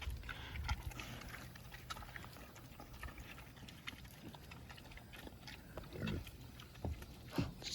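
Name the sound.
pigs eating and flinging watermelon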